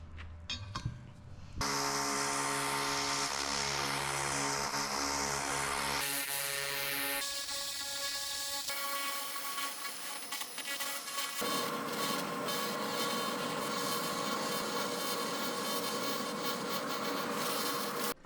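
A handheld laser rust remover run at maximum power on a badly rusted brake rotor gives a loud, steady electronic buzz and hiss that shifts tone several times and carries on without a break. No one speaks.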